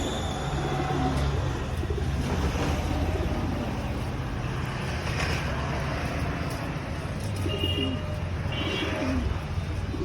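Pigeons coo repeatedly in a bird shop selling pigeons and poultry feed, soft throaty calls rising over a busy background with faint traffic.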